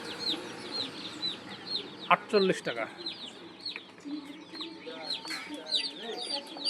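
Broiler chicks chirping and clucking in a poultry hatchery, a steady chorus of high cheeps with a few louder calls, heard under a voice talking.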